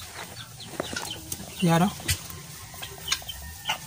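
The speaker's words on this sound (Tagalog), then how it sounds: "Chinese ringneck peasant." A Chinese ring-necked pheasant gives one short, loud, ringing call partway through, surrounded by people talking and scattered bird clucks, at a farm keeping Shamo and Dongtao chickens.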